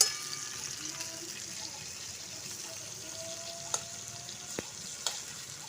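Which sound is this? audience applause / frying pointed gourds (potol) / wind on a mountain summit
frying pointed gourds (potol)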